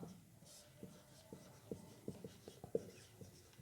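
A pen writing on paper during a class 10 maths lesson: faint, scattered scratching strokes, quiet and close, with brief pauses between marks.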